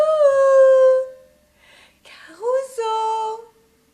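A dog called Caruso howling in long, drawn-out tones, one sustained howl, a short broken pause, then a rising second howl, moderately loud and without talk.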